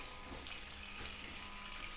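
Water trickles steadily into a washing machine filling at low pressure, a faint, even hiss with a light mechanical ticking underneath and no voices.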